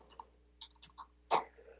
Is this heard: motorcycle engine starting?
no